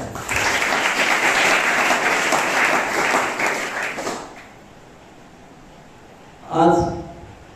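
Audience at a school event at GMV Vidyamandir & Tala Junior College gives a burst of welcoming applause, dense and steady for about four seconds before stopping; a brief short thump follows near the end.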